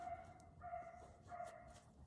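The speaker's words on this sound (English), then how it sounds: "He's a funny little pup." A small dog barks a few short, high yips in two bursts at a distance, faint over a quiet background.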